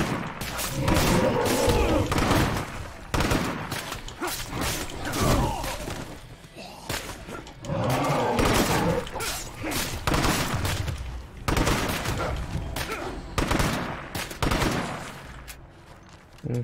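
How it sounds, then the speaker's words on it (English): Gunfire rattles in State of Decay 2, loud bursts and rapid volleys with heavy thuds and crashes that come in waves over roughly seventeen seconds, pausing briefly between fights. "Guys, shoot it."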